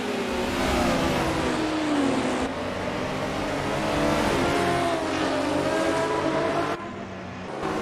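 BMW CSL GTR race car in an Assetto Corsa league race at the Deutschlandring, its engine loud and close with steady revving and gear changes across the whole stretch, the note rising and falling with no voices.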